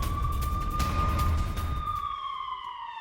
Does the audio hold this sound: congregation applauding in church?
no